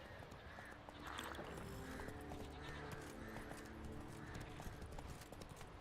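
Roach the horse in The Witcher 3, quiet rhythmic hoofbeats trotting along with faint game ambience, steady throughout, with no voices.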